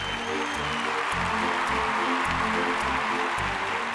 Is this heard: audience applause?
yes